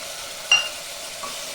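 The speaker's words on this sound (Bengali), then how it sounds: "আমি এখন এখানে ভাজা মশলাটা দিয়ে দিব।" Mutton curry cooking in a pressure cooker as roasted spice mix goes in, a soft steady frying hiss with one brief scrape of stirring early on, otherwise quiet and without talk.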